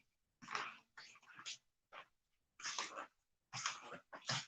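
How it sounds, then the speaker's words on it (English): A dog making close, breathy snorting and huffing sounds in several bursts with short pauses between them. "Damn dog."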